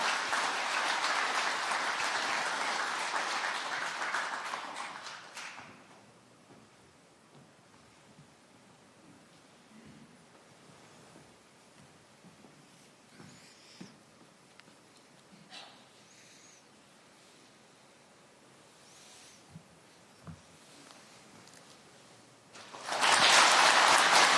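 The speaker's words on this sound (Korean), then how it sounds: "여러분 큰 박수로 환영해 주시기 바랍니다." Applause from the audience at a Parents' Day ceremony greets the head of the Korean Senior Citizens Association taking the stage. It is loud at first and fades after about five seconds into quiet room noise with faint shuffles, then swells again at the end.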